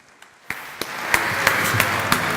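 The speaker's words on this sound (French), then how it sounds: "Francky, qu'on applaudit bien fort." Applause at a union federal congress general assembly begins sparse and builds into a steady wash of clapping, with a few sharper individual claps standing out over the roar of the hall.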